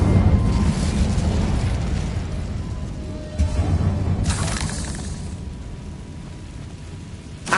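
Fiery spell blasts in the Hogwarts Legacy game, a loud roaring burst with crackling debris, a second whooshing eruption midway and rumbling low noise throughout, with no voices.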